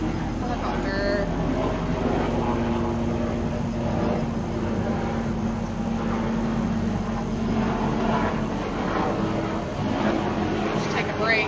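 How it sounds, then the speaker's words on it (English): A helicopter flying overhead, its steady loud droning rumble and rotor hum filling the whole stretch without letting up. "Apologies. Helicopter."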